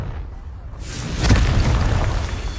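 A Confringo spell explosion in Hogwarts Legacy: a sudden loud boom after a quiet moment, leaving a broad rumbling roar that carries on to the end.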